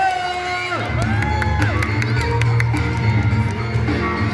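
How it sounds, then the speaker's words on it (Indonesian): A crowd at a school Heroes' Day ceremony cheers and shouts, with children's voices whooping over a dense, lively background of clapping and chatter, continuous and fairly loud. "Tepuk tangan dong semuanya."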